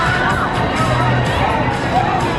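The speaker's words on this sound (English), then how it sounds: "You can hear the screams of the victims there as it continues to extend higher and higher" Riders scream together on a giant robotic-arm thrill ride at Kentucky Kingdom amusement park, a steady, loud wash of distant crowd shrieks and whoops rising and falling without pause.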